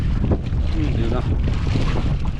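Strong storm wind buffets the microphone with a steady, loud roar across the whole stretch, alone with no talk over it.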